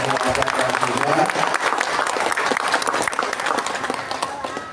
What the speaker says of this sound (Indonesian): Tepuk tangan sekali lagi kepada semua transmigran.